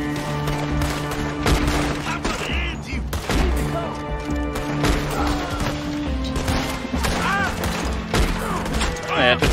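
Dense gunfire in a Red Dead Redemption 2 firefight, rapid overlapping shots and crashes from rifles and revolvers, loud and continuous, with a voice talking over the action.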